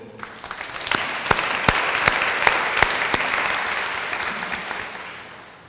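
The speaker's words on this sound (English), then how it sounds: "So I think you should give them a round of applause too." Audience applause at a fashion design and marketing graduation recognition ceremony, a steady dense patter of many hands with a few sharper claps standing out, swelling briefly then tapering off near the end.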